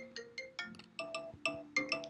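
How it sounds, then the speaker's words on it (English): Phone ringtone playing a quick bright electronic melody of about nine plinking notes in rhythmic bursts, fairly quiet and alone. "There goes my ringtone."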